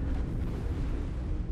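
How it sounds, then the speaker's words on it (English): A commander unit explodes in the real-time strategy game Planetary Annihilation on a moon map, giving a deep, rumbling blast that sustains loudly for the whole short moment without speech. "there is the commander explosion"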